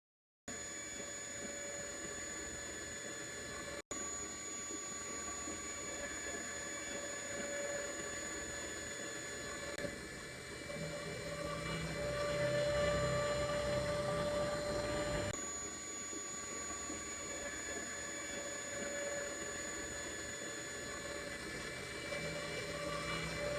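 Built-in electric pump inflating a twin air mattress: a steady, loud motor drone running continuously at close range, growing slightly fuller partway through as the mattress fills, with no talk.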